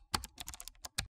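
Quick burst of typing on a computer keyboard, about ten crisp close key clicks in an uneven rhythm, ending with one firmer keystroke and then silence.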